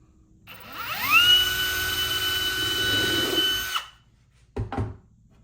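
A Milwaukee M12 cordless drill spins up with a rising whine, holds a steady high-pitched run for nearly three seconds, then stops, followed by a short second burst of the motor.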